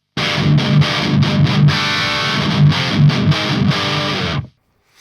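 Electric guitar played straight into a Laney amp with no effects, a loud, gritty burst of strummed chords and rhythmic accents lasting a few seconds before stopping abruptly into silence.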